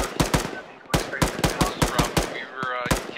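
Rapid rifle and machine gun fire in an Arma 3 firefight, sharp close bursts of shots in quick rhythmic succession with a short pause, then a radio voice joins near the end.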